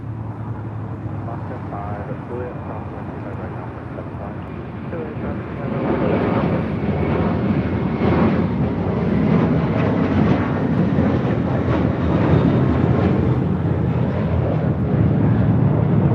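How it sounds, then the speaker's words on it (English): JetBlue Airbus A321 airliner taking off at LAX, bound for Newark, with a rising engine roar that builds sharply about a third of the way in and then stays loud. Wind buffets the microphone, and voices can be heard talking. "Up first, JetBlue Airways Flight 1874 heading to Newark in an A321."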